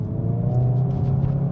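A Hyundai i30N in N mode idling, its exhaust holding a deep, even burble that sits close and steady throughout, with no voices.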